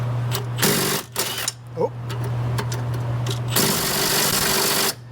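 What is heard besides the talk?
small 3/8 impact gun trying to loosen a bolt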